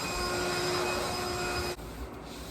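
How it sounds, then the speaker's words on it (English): A handheld vacuum cleaner runs in a bedroom with a loud steady whirring whine, then abruptly drops off partway through, leaving a quieter residual hum. "I'm using this vacuum, this handheld one."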